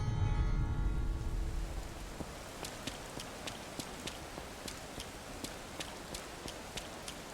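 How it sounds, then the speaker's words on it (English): Rain falls in the video game Yakuza Kiwami, a steady hiss with regular sharp taps recurring through the scene, starting under a louder low rumble that fades out in the first second. "Oh, it's raining now. It wasn't raining before."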